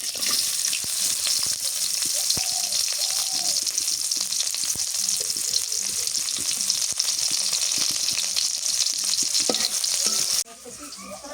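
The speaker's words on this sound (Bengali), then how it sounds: "তেল দিই, সর্ষের তেল। পেঁয়াজ কুচি দিয়ে দিই।" Chopped onion fries in mustard oil with a loud, continuous hissing sizzle and faint stirring, which drops in volume abruptly just before the end.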